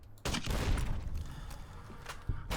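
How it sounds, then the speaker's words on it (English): Explosives going off in Fallout New Vegas: a burst of loud crackling booms and rattling blasts, with a sharp onset and a later secondary hit, continuing throughout. "Secondary explosions still get me."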